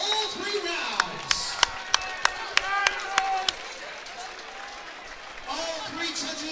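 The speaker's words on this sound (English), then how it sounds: "how about a round of applause for these fighters going all 3 rounds?" Audience at a combat-sports event clapping for two fighters after a three-round bout: about eight sharp, evenly spaced claps ring out over a murmuring crowd and a voice, then fade into chatter.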